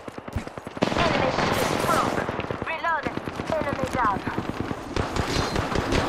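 Rapid automatic gunfire in the Apex Legends video game, loud bursts of shots running under excited talking players, with shot bursts recurring throughout.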